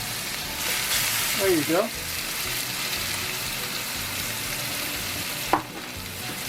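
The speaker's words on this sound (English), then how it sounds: "And then we're going to drop in those pork chops." Pork chops with a couple pats of butter searing in a very hot pan make a loud, continuous sizzling hiss with a couple of short clatters, and a voice speaks briefly.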